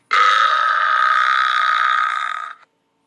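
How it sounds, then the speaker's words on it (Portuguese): A wolf lets out a single loud, drawn-out burp lasting over two seconds, raspy and steady before cutting off abruptly, with nothing else around it. "soltou um arroto alto e fedorento"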